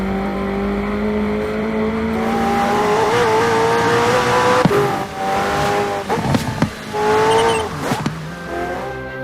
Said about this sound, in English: And inside you can hear that cockpit recording that we've done.